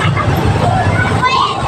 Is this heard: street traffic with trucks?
yes